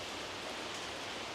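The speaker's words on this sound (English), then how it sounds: "you don't mind the sound of rain" Steady rain on Tioman Island, Malaysia, a dense, even hiss with no voices or other sounds over it.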